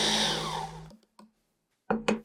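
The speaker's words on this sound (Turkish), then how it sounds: "Parçaları blender kabına kırın." A blender grinds biscuits loudly for about a second, then stops; after a pause, two short bursts of whirring start up again.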